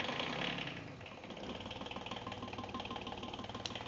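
A boat's marine engine starts up in an engine room and settles into a steady, loud idle with a rapid, even mechanical chatter throughout, with no voices.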